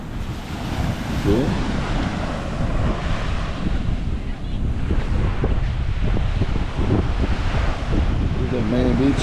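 Surf breaking on the main beach at a Tulum resort, a steady loud wash of waves with strong wind buffeting the microphone throughout, while someone talks briefly over it.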